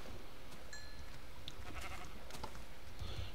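Sheep bleat in a video game, a couple of short calls over a steady background of game ambience, with no talking.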